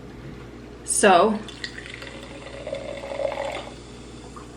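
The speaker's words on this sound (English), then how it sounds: "Let me pour this in my mason jar so y'all can get a look at it." Alani Nu Breezeberry energy drink poured into a mason jar, a brief splashing gush that trails into a softer steady trickle, close and fairly loud, with a short spoken word at the start.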